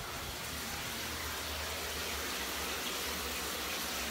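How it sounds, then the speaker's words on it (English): A home shower runs continuously, a steady, close hiss and gush of falling water with a low rumble beneath, alone without talk. "The shower is on."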